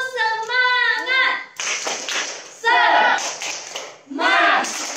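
Children do a spirit clap at an online children's worship service, with bursts of rhythmic group clapping mixed with sung or chanted voices, repeating in several rounds close to the microphone.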